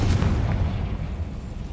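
Confringo fire spell blast in the Hogwarts Legacy video game, a loud low boom with a rumbling tail that fades out over a couple of seconds.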